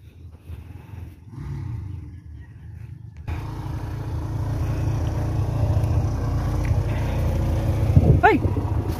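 Thunder during rain: a low, continuous rumble that swells and stays strong through most of the stretch, heard outdoors with a brief voice-like sound near the end.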